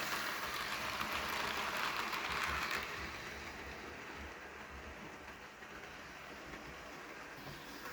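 A Hornby LNER A1 Flying Scotsman model locomotive runs around its track with a continuous faint rumbling whir, slightly louder for the first few seconds and then steady, with no voices.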